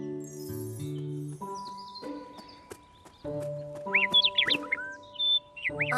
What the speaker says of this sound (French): Un oiseau chante gaiement dans un arbre.